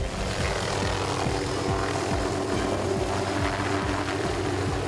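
A lifeguard rescue helicopter takes off, its rotor chopping in a fast, steady thumping beneath a loud roaring engine, close and continuous without speech.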